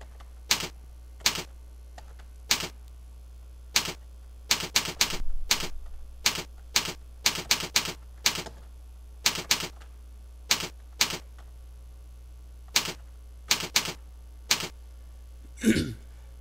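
Keys struck one at a time on a keyboard while a title is entered in editing software, roughly twenty sharp separate clicks in an uneven rhythm, close and clear over a steady low hum, with no talking.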